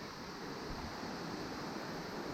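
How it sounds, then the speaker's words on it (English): A waterfall heard from a hiking trail makes a faint, steady broadband rush with no breaks, distant and continuous, with no voices over it. "Can hear the waterfall. I think we're getting close."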